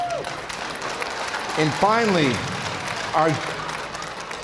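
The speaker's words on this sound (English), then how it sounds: "How about a round of applause?" Applause from the crowd at player introductions before an amateur hockey game against Bruins alumni, running under an announcer's amplified voice, which rises in brief louder bursts.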